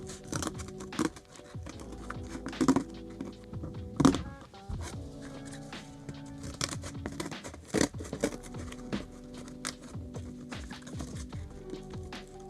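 Paper being cut out into a shape for a graduation money crown, with soft snipping, crinkling and thumps close by, quiet and irregular.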